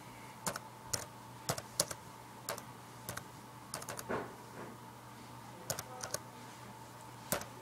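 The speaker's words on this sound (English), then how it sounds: "You type in the song name." Typing on a computer keyboard to enter a song name, with a run of distinct clicky keystrokes spread unevenly through the clip, some in quick bursts, heard alone over a quiet room hum.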